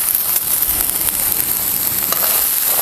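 Tondli (ivy gourd) sizzles loudly as it is stir-fried in oil in a kadhai on a stove, a dense continuous frying hiss broken by occasional scraping stirs.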